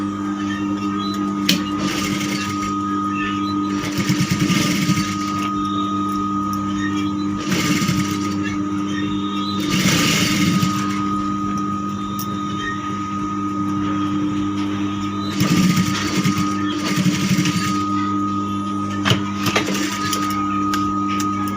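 A sewing machine stitching piping on a princess-cut blouse runs in short, whirring bursts separated by pauses, with a steady hum throughout and someone talking over it.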